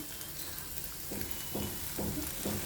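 Amaranth greens are stirred in a cooking pan, with soft sizzling and a few scraping strokes of the spoon near the end, close and fairly quiet.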